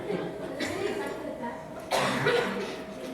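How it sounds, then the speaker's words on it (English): A few rough coughs close to the mic, mixed with breathy vocal sounds. "And that's coughing."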